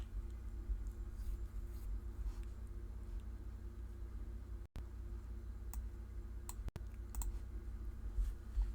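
Computer mouse clicks while working in a web browser: a few faint, sharp single clicks spaced apart over a quiet, steady room hum.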